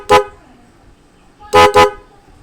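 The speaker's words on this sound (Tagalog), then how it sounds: "malalakas na busina o yung malalaki nating busina" Three loud car horn honks from a horn newly wired through a relay: one short blast, a pause, then two quick blasts in succession, close by with no talking.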